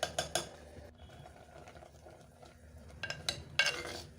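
Cooked mixed greens (spinach) and raw banana are stirred in a pot, with a few quick scrapes and clinks of the spoon at the start, quiet between, then another cluster of clatters near the end.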